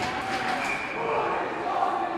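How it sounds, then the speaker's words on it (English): A student-section crowd at a high school hockey game chants together in a steady, rhythmic roar, sustained and fairly loud with arena echo. "The crowd chant, again from the student section, is put in Chauncey"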